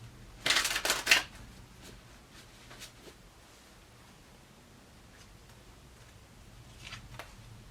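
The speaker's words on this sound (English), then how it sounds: "One more shuffle." Tarot cards are shuffled briefly in two quick, crisp riffling bursts at the start, then only soft faint rustles follow in a quiet room.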